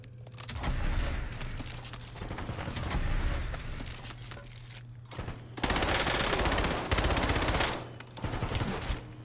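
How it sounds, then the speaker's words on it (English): Rapid bursts of automatic video game gunfire from a weapon with heavy recoil, loud and sustained with brief pauses, with a hum running underneath. "This gun's got crazy recoil."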